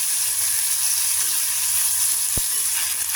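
Gongura flowers frying in a pan make a steady, loud, close sizzle that holds unbroken throughout, with one brief low knock near the end.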